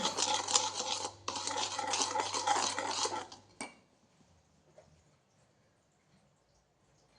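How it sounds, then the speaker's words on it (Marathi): Baking soda being mixed into wheat-flour chocolate cake batter with a spoon in a bowl: close, continuous scraping and stirring with a short break early on. It stops after about three and a half seconds, leaving near silence. "बेकिंग सोडा सुद्धा नीट मिक्स करून घ्यायचा"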